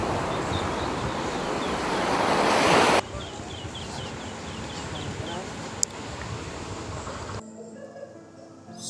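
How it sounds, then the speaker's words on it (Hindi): Ocean waves surge and break against the stone wall of a fort at Diu, a steady broadband wash of surf with wind buffeting the microphone, continuous and fairly close, with no speech over it. "यहाँ से आप पानी की देख सकते हैं, पानी की लहरें कैसे आ रही हैं और इस दीवार से टकरा रही है इस किले को।"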